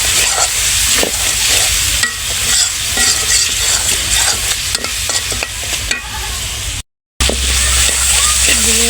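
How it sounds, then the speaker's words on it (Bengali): Dried fish (shutki) sautés with spices in a hot pan, giving a steady sizzle with stirring scrapes throughout and a brief dropout near the end. "এই যে শুটকিগুলো আমি দিলাম তো শুটকিগুলো হয়েছে আগে একটু ভালোভাবে কষায় নিতেছি"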